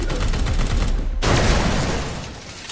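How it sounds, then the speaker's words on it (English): A massive explosion in the Warhammer 40k: Chaos Gate – Daemonhunters video game booms loud and dense, crackling debris rolling on and slowly fading over a couple of seconds after a short gap. "Whoa, that was a massive explosion."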